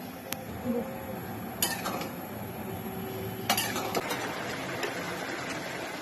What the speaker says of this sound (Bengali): ডাল অর্ধেক সিদ্ধ হয়ে গিয়েছে, এখন করলা দিয়ে দিব